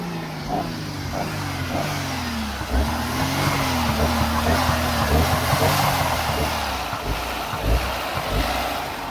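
Car engine on a beach revving repeatedly under hard pedal pumping, its pitch rising and falling in waves, close and continuous, with wind noise.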